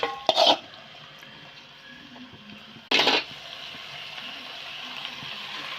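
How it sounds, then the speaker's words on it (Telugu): Marinated chicken pieces tipped into a hot pan with frying tomatoes, giving two sharp metallic clatters a few seconds apart over a steady low sizzle that continues between them. "మ్యాగ్నేట్ చేసుకున్న చికెన్ని వేసేసుకోవడమే."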